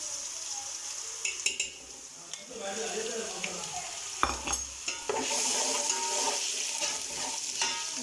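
Ginger garlic paste sizzling and frying in a hot pan over browned onions, with a spoon stirring and scraping against the metal now and then, close up.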